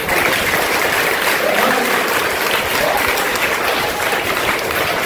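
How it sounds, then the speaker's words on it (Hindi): A school audience at a Hindi Day gathering bursts into loud, continuous applause, a thick even roar of many hands clapping close by with no pause. "इनके लिए तो पहले तालियां बजाएं आप"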